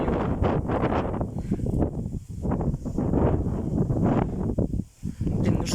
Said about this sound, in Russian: Такого ветра давно не было.